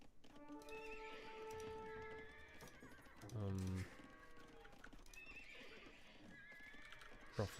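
Horses in the Age of Empires II video game neigh and whinny over galloping clip-clop hooves, the loud call standing out briefly midway through a busy game soundscape.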